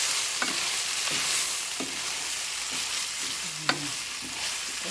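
Spicy tofu stir fry with spring onions and a little sesame oil sizzles steadily in a pan while a utensil stirs it in several distinct scrapes and knocks, close and moderately loud, with no talking.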